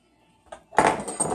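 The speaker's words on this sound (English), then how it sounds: "So this is ready. I'm just going to pour it in." Melted oils for a coffee soap batch poured into a container, a short clinking contact followed by a steady broadband pouring splash lasting under a second, close and fairly loud.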